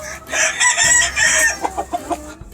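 A gamefowl stag on a Georgia farm gives a loud, close crow lasting over a second, then breaks into a series of short, clipped clucks.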